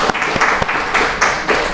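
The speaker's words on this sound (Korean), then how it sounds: "우리 박수로 한번 환영하고" A church congregation at a third-anniversary service applauds to welcome a performer, a continuous, fairly loud patter of many hands with a few sharper individual claps standing out.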